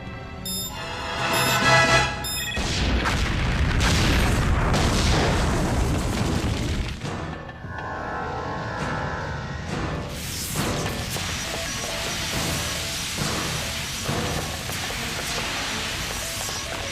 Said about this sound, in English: Explosion in engineering access corridor 47B.